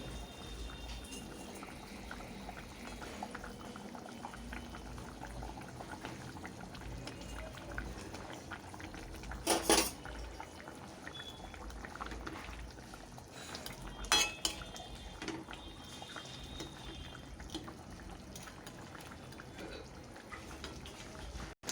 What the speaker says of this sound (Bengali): দেখো ঝোলটা ফুটে উঠেছে।